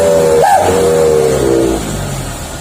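A Mitsubishi L300 van fitted with a custom Srigala exhaust revs once briefly, its tone rising and falling over a steady idling rumble before settling down.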